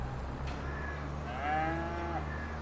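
Cattle in the video game Farming Simulator 22 give a drawn-out moo, with another lower moo overlapping, over a steady low engine-like drone; no voices.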